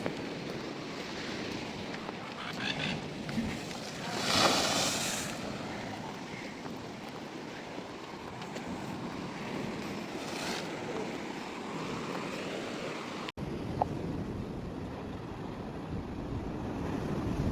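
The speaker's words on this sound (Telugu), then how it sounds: "సో ఇలా బ్లోహోల్ నుంచి వాటర్ వస్తాయి." Sea water rushes and surges continuously from a coastal blowhole at Bicheno, Tasmania, with a burst of spray, under steady wind rumble; no voices are heard.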